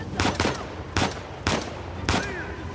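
Sniper rifle fire in the video game Uncharted 4: four loud, evenly spaced sharp shots about half a second apart, each with a short echoing tail, and no voices over them.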